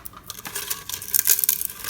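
Crunchy cheese powder snack pieces crackle and clatter in a blender jar, a quick flurry of sharp, bright crackles building louder toward the end, with no talking.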